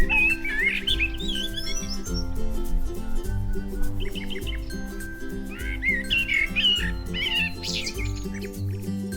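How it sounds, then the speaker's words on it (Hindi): A family of small birds chirps and tweets in bright bursts, several calls overlapping, heard over a steady bed of low background music. "चिड़ियों का वो परिवार भी उड़ जाता।"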